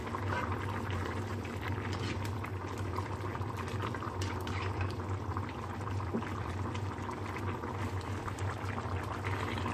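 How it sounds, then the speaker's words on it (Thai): A pot of Thai chicken and bamboo shoot curry at a steady rolling boil, with dense, continuous bubbling and gurgling heard up close throughout. "ตอนนี้กำลังเดือดดีมากเลยค่ะ"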